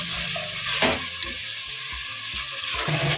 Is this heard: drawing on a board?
no